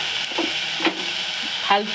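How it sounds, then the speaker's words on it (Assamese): Jaggery and grated coconut stuffing with cardamom for modak is stirred and fried in a pan, giving a soft continuous sizzle broken by a few scraping strokes of the spoon, up close and with no talk. "গুড় আৰু নাৰিকলখিনি অলপ এনেকৈ ভাজি ল'ব।"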